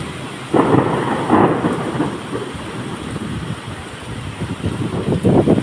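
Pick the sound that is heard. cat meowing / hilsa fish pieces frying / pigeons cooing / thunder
thunder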